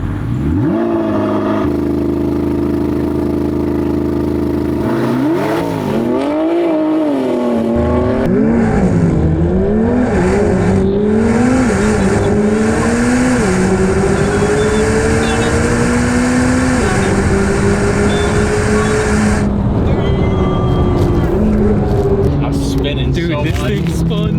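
A 1064 hp C8 ZR1 Corvette and an 800 hp all-wheel-drive G80 M3 launch in a no-prep drag race on gravel, engines idling then revving hard and climbing through gears, loud and close with people talking over it.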